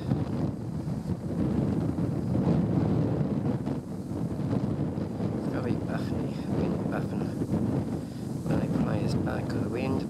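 Strong, gusty wind at the RSPB Lakenheath nature reserve ahead of a severe cold-weather storm, roaring and buffeting close to the microphone without pause, with faint voices underneath.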